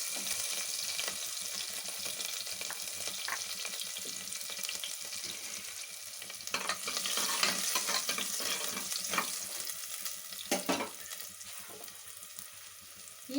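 Crushed garlic fries in hot oil in a pan, a continuous crackling sizzle with occasional scrapes and stirring clatter, louder in the second half, with no talking.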